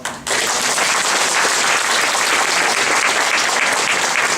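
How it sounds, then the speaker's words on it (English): An audience at a town hall meeting bursts into applause and keeps clapping steadily, a dense, continuous wash of many hands. "please give them a round of applause"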